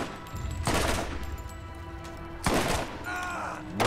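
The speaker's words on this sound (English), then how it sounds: "I think you're getting shot." Borderlands gunfire arriving in two sharp, loud bursts, each a rapid cluster of shots followed by a lower steady hum and faint background clatter between them.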